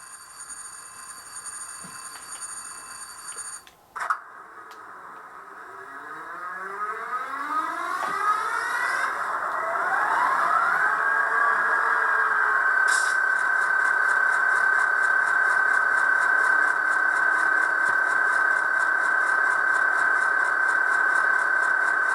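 An electronic diesel locomotive sound, a SoundTraxx Tsunami 2 decoder in an Athearn HO FP45 model, winds up and settles into a steady idling hum after a click and a short burst, rising through whining tones.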